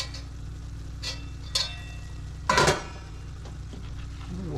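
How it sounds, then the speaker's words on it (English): Onion and a burger sear in a pan over a fire at an off-grid cabin, giving a steady low sizzle with a louder burst of stirring and scraping midway and a few faint utensil clicks. "I'm going to just sear that down a little bit with that burger"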